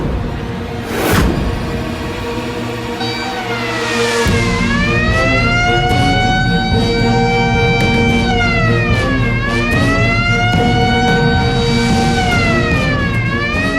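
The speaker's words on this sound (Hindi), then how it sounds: "तब तक किसी ने कैदियों में फरार होने वाला सायरन बजा दिया है।" Wailing alarm siren sounding across a jail as an escape alert, rising and falling in long sweeping cycles, loud and continuous for most of the stretch after a brief whoosh at the start.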